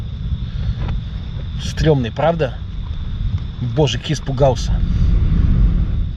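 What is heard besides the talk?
strong jet of air roaring out of a rock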